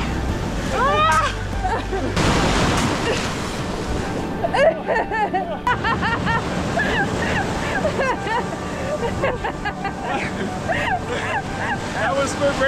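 Ocean surf rolls and breaks steadily on a Malibu beach, a continuous washing roar with wind buffeting the microphone and occasional splashes close by.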